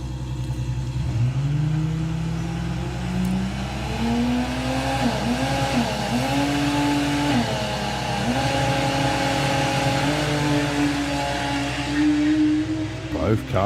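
Two VW drag race cars launch side by side at a Bug Jam qualifying round, engines roaring and climbing in pitch as they pull away, loud and sustained, with a commentator talking over them.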